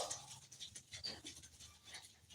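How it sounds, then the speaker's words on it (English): A dog pants close by in quick, rhythmic breaths, with a faint whimper mixed in, fairly quiet and with no talking. "Let me see if this dog's wanting out or something."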